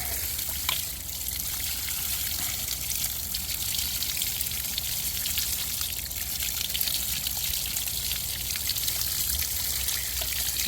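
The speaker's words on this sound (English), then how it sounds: "Just getting water in there." Steady trickling water runs continuously into an outboard motor, a close, even stream of liquid with faint splashes and no voices.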